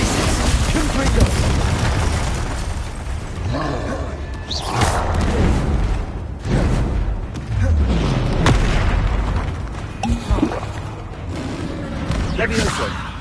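Spellcasting combat in the game Hogwarts Legacy, including the Confringo fire spell, fills the scene with repeated loud booms, thuds and whooshing magic effects, spread across the whole stretch with no talking.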